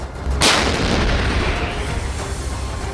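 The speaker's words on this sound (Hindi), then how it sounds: "इस दौरान दक्षिण कोरिया की सेना ने तोप से गोले दागकर अपने इरादे जता दिए।" A South Korean army artillery cannon fires a shell: one loud, sharp blast at close range, followed by a long rumbling roll that slowly fades over the next few seconds, with no voices.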